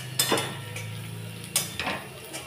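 Bottle gourd peel frying with sprinkled poppy seeds is stirred in a pan, a spoon clinking and scraping against the metal in a few sharp, close knocks over a steady low sizzle, with no talking.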